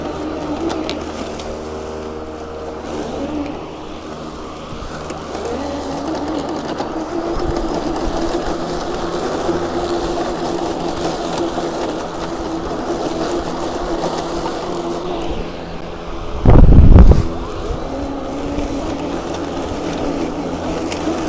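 DeWalt DCMWSP700Y2 60V battery rear-wheel-drive lawn mower running steadily, a continuous electric whir and blade hum from nearby, with a brief louder thump near the end.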